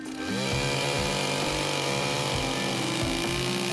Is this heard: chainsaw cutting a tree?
yes